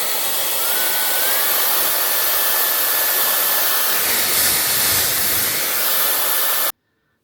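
A Ga.Ma iQ1 Perfetto hair dryer blasts at full power, a loud, steady rushing whoosh with a faint high whine, cutting off abruptly at the end.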